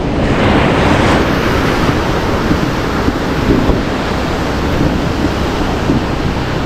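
Steady, loud broadband wash of sea waves breaking continuously at close range, with wind buffeting the microphone throughout and no voices.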